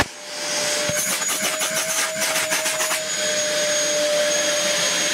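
A refurbished Dyson DC11 All Floors vacuum cleaner runs at a steady, loud whine close by, with a brief rattling patch in the first seconds before settling into a constant drone.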